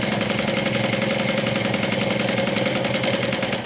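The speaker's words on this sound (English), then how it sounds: "for decoration purposes, I'm going to sew 2 more lines." A sewing machine runs steadily, stitching two extra decorative lines along a Sew Sweetness Gloss cosmetic bag, a continuous close motorized whir with rapid needle rhythm and no pauses or talk.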